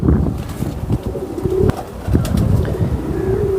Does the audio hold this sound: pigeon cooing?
yes